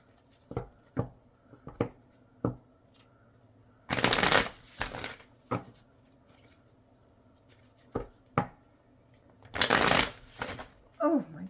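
Tarot cards are riffled and shuffled in bursts, two long loud shuffles among scattered soft taps and card slaps, close up, with a quiet voice speaking briefly.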